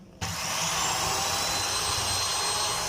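An electric mixer beats eggs and sugar for a cake batter, switching on abruptly and then holding a steady, close, loud whirring drone.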